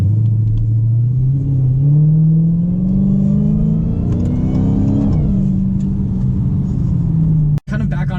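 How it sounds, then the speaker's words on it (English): The supercharged engine of a 2018 Dodge SRT Hellcat revs up with a deep rumble and a rising supercharger whine, climbing steadily, easing back, then cutting off abruptly near the end. "It kind of makes this really loud whining sound when you're getting on the accelerator"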